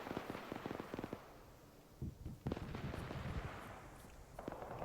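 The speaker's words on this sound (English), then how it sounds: "they're firing ordnance near the Vix." Ordnance fires in the Arma 3 military video game as bursts of rapid cracks and pops, some distant booms and crackling volleys, fairly faint, with no one speaking.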